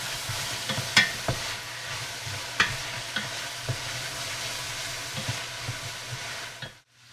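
Beer brats and garlic sizzle in a frying pan as a utensil stirs them, with a steady fry hiss, close and moderately loud, punctuated by several sharp scrapes and clicks against the pan before it cuts off.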